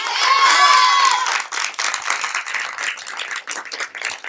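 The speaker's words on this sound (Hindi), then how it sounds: "एक बार जोरदार ताली अपने कोच के लिए" An audience claps and cheers loudly for their coach, with a shrill whistle-like tone rising above the crowd near the start before the noise settles into steady, uneven clapping.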